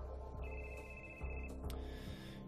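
Telephone ringing on the line after an emergency number is dialed, a steady electronic tone that runs about a second and then cuts off, heard over a low background hum.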